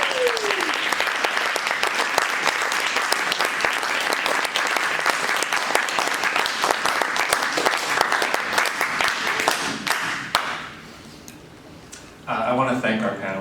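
An audience at an evening panel event on renters' organizing breaks into long, dense applause for the panelists, loud and steady for about ten seconds, then fading away as a voice begins talking.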